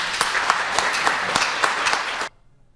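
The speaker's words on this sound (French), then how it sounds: "j'aimerais ça qu'on applaudisse Richard." A crowd applauding with dense, steady clapping that cuts off abruptly, leaving near silence.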